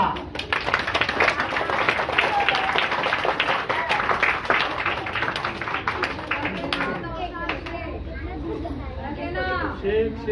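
An audience at a school Gudi Padwa enrolment event claps densely for about seven seconds, then the clapping thins into scattered claps as voices and chatter take over.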